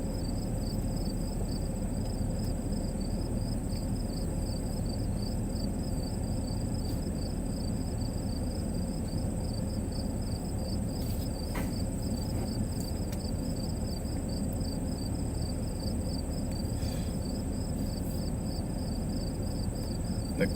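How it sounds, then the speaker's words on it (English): Crickets chirping outside at night in Ohio, a faint steady high trill repeating throughout over a constant broad hiss of background noise, with no talking. "The crickets are cricketing outside."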